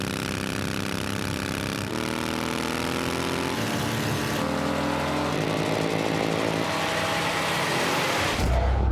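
Soviet Ural motorcycle racing flat out on the Bonneville salt flats during a speed record run, its engine droning loud and steady with rising pitch, then cutting to a sudden rush of wind at the end.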